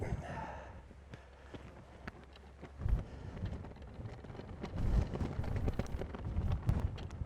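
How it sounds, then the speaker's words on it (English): Strong wind gusts across a golf course and buffets the microphone with low rumbling surges and scattered thumps, rising and falling without clear talk. "So much wind."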